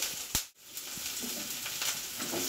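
Spice paste of garlic, tomato and grated ginger fries in a pan for aloo paratha, a steady close sizzle opened by a short clatter of stirring.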